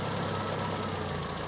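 A car engine idles with a slightly poppy exhaust, its carburetor in need of tuning; a steady, close, continuous rumble runs throughout with no talk.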